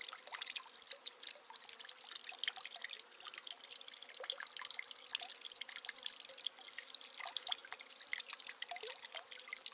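Spring water at a Pacific Crest Trail water source trickles and drips into a big old trough, a steady close patter of small splashes with no voices.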